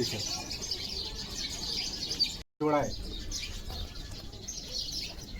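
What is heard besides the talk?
pigeons cooing and flapping in a loft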